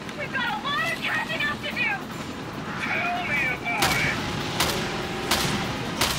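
Gunshots in the video game Resident Evil: Revelations 2, several sharp reports in the latter half following game character voices, with a player talking over the action.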